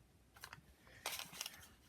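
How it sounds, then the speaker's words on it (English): Scissors fussy cutting small motifs from fabric for stamp appliqué, giving two short clusters of crisp snips and rustles, close by and fairly quiet, with no voices. "So I'm going to start cutting, doing a little fussy cutting with this."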